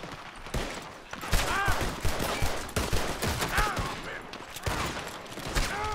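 Rapid bursts of gunfire in the video game Red Dead Redemption 2 crackle throughout, loud and close, with sharp repeated shots and brief pauses between volleys.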